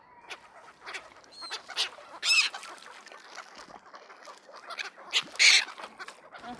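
Geese or ducks give several loud honking calls on a snowy lake, with sharp bursts standing out around the middle and toward the end over scattered nearer calls, with no talking.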